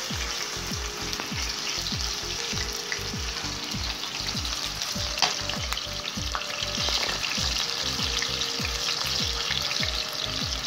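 Pieces of chicken breast fry in heated vegetable oil with a loud, continuous crackling sizzle close by. Rhythmic strokes of a utensil stir and scrape the pan throughout, and no one speaks.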